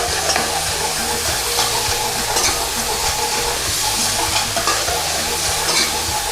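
Garlic fries in a pan for chicken dopiaza, a dense, constant sizzle with stirring scrapes mixed in, close and loud throughout.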